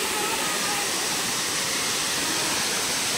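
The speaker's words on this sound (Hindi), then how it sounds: "जबरदस्त यहाँ इस साइड में जबरदस्त चला हुआ है झरना" A waterfall in a hilly spot below a carved Mahadev statue pours steadily, a loud, dense, unbroken roar of rushing water filling the whole moment.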